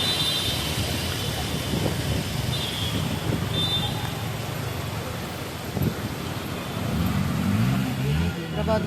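Heavy rain over a jammed city road in Hyderabad, a dense wash of rainfall and wind noise with vehicles idling and a low engine surge toward the end, speech faintly mixed in.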